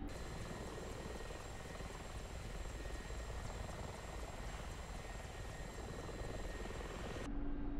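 A Mi-24 Hind helicopter in DCS World taxis on the ground, its rotor and engine giving a steady, even whine and whirring drone that holds constant throughout with no talk over it.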